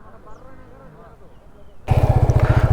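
A Hero Splendor motorcycle engine starts up loud and close after quieter background noise, its steady pulsing idle thumping in a regular rhythm near a flooded Penna river in Nellore.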